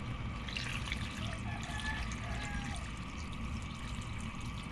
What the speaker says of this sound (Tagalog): Add na tayo ng sabaw natin guys.